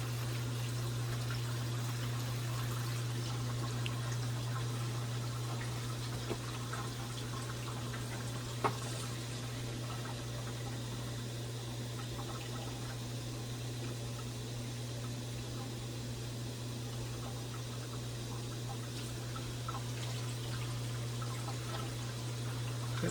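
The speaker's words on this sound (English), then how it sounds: "It doesn't matter if you fill with warm or cold water," A 4-cup, 1,000-millilitre container is filled with water for a no-sugar-added cran-apple sauce, a faint, steady running trickle with a low hum underneath, continuous and without talk.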